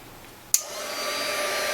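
Heat gun switched on to shrink heat shrink tubing on model railway speedometer wiring, a sharp click followed by a steady close blowing hiss that builds and holds.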